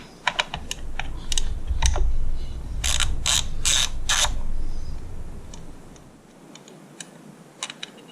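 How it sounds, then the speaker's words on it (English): A ratchet fitted with a 10mm deep socket clicks quickly while loosening bolts in the engine bay of a 2005 Honda CR-V, with several fast bursts of close, crisp ratcheting over a low background hum. "So I'm going to switch to a 10mm deep socket in order to get access to these."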